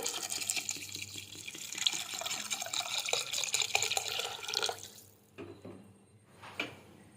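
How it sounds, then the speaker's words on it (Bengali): Water pours into a cooking pot that holds spices for khichuri, a continuous splashing flow that stops abruptly, followed by a few faint drips and clinks, with no talk. "এবার দিয়ে দেবো পরিমাণ মতো জল"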